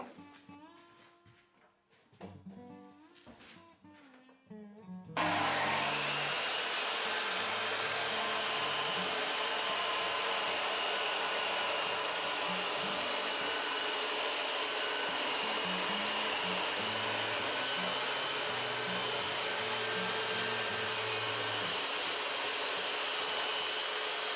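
A power tool bites into a board of pink ivory wood, its loud, steady whine and grinding running unbroken for about twenty seconds after a brief, quieter stretch with some background sound.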